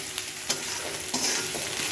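Ginger paste fries with egg curry masala in a pan, a close, steady sizzle punctuated by a few quick scraping stirs, with no one speaking.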